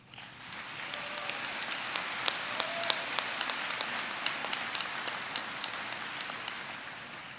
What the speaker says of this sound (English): I would just like to take a second to give all of our hardworking teachers a round of applause